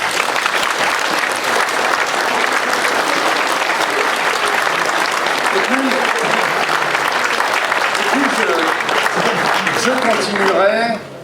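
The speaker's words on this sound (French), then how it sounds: "je voudrais vraiment qu'on applaudisse tous ces auteurs, tous ces illustrateurs qui étaient ici présents" At the Imaginales fantasy book festival prize ceremony, a large audience applauds the authors and illustrators with sustained, dense clapping, a few voices rising through it before the applause stops abruptly.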